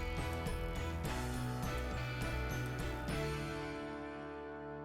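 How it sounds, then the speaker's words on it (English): A radio fastened into its mount on a 2024 Polaris XP with the supplied screws, heard as a repeated ratcheting, clicking screwdriver turning in short bursts over steady background music. "Install the radio in your mount with the supplied screws that came with your radio."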